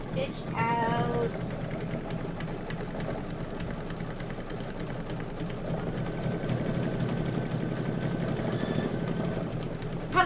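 An embroidery machine stitches out an autumn quilt design, its fast needle running as a steady mechanical whir close by, with people chatting over it.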